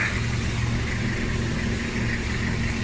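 A JDM car's engine idling smoothly, a steady low hum with an even tone throughout and no talk over it.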